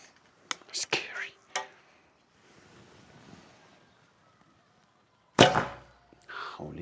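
An arrow is shot from a Smaug 2XL recurve bow, giving a sharp, loud release thump and snap late in the clip, preceded by quiet handling clicks and a soft whispered voice.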